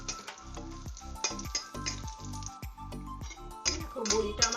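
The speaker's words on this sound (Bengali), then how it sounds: "প্রথমে বড়িটা, তেল গরম হয়ে গেছে, আমি প্রথমে এটা ভেজে নিচ্ছি" Bori lentil dumplings frying in hot oil in a Bengali home kitchen: steady close sizzle and crackle with scraping stirs and clinks of a utensil against the pan, busier and louder toward the end.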